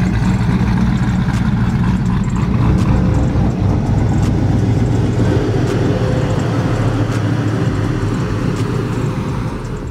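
Twin-turbo Chevrolet Camaro being driven, a loud, continuous deep engine roar with a steady throaty rumble that holds for the full stretch and eases slightly at the end.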